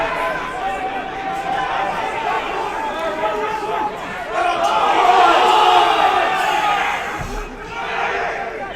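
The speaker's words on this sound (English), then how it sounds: "The crowd definitely getting more and more into it as the minutes tick on" Spectators at an amateur rugby union league match create a continuous crowd roar that swells louder midway and then eases, with shouts and chatter mixed in.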